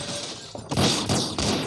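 Gunfire in an animated cartoon comes as a few sharp, close bursts of crackling shots and shattering, loud and set apart by short gaps.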